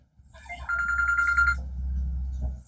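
A phone rings with a repeating electronic ringtone of bright, pulsing tones, fairly close, over a low steady background hum in a comedy sketch. It cuts off after about a second.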